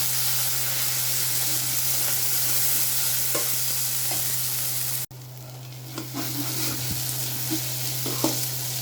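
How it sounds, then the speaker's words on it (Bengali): Ginger and browned onions fry with a loud, hissing sizzle in a pan while a spoon scrapes and stirs them, the sizzle dropping abruptly midway and resuming softer with scattered stirring clinks over a low hum, with no talk. "আদা দিয়ে দিই দুই চামচ আদা দিয়ে একটু নাড়াচাড়া দিই"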